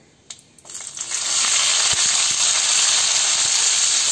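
Four medium-sized chopped onions dropped into hot oil with tempered spices in a pan, a short clatter then a loud, steady sizzle that swells and holds, with no talk.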